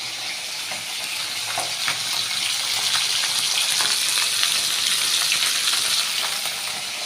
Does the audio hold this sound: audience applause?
no